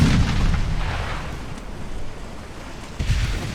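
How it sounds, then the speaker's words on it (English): Naval gunfire from 5-inch guns in the warship game Ultimate Admiral Dreadnoughts, a dull booming rumble with a steady wash of sea and wind beneath it, a heavier report near the end. "5-inch guns for the win."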